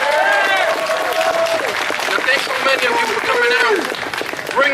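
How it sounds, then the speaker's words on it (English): A crowd at a hemp rally in York gives a round of applause, dense sustained clapping with loud cheering voices and whoops throughout. "Let me hear you give a round of applause."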